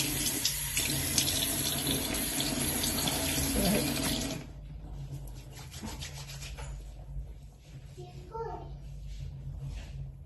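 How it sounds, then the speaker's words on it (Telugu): Tap water runs steadily into a bathroom sink while a face is being washed, loud splashing and rubbing at first, then a quieter trickle with light splashes and handling sounds. "So I'm just washing my face."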